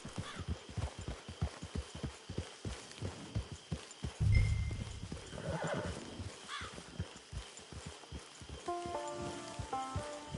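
A horse in Red Dead Redemption 2 clip-clops at a steady walk with rapid near hoofbeats, then lets out a loud whinny midway, with rain falling in the background and a brief musical tone near the end.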